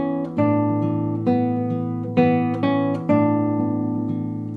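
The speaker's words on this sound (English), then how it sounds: "I like to move my right hand a little more toward the bridge to get a brighter sound." A guitar plucked near the bridge for a brighter tone plays the opening of Brahms' Lullaby, with a few clear, ringing notes and chords spaced evenly and sustaining between attacks, no voices.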